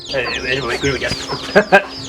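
Chickens cluck and squawk in a close, busy series of short calls on a farm in Cao Bang, Vietnam, with two sharper calls near the end.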